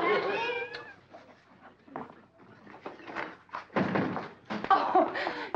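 A cat meows near the start in a kitchen, followed by a string of dull thuds and bumps of varying loudness, close and fairly busy, with no talking.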